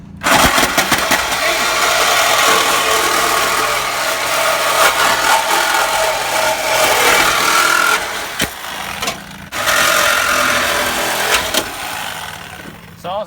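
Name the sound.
Sawzall reciprocating saw cutting car body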